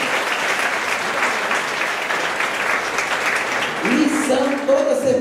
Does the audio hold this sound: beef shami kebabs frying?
no